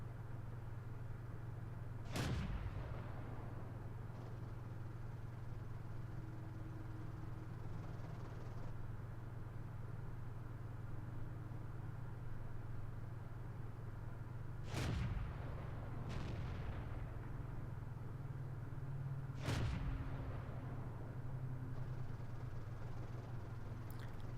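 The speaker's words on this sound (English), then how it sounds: "I can see someone shooting behind this house" Tank cannon fire in World of Tanks, a Churchill I among the vehicles: four sharp booming shots spread across the stretch, one near 2 s and three later, over a constant low engine rumble, no talk.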